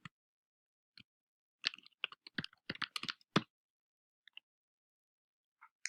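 Soft, quiet clicks of a password being typed on a computer keyboard, arriving as a quick burst of keystrokes with a few isolated taps before and after, no voices.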